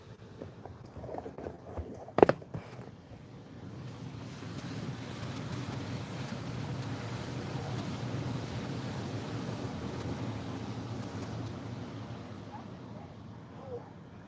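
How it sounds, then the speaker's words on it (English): Ocean surf rolling in below a cliff, a broad steady wash of breaking waves with wind buffeting the microphone, plus a sharp knock near the start. "Let's look at these waves."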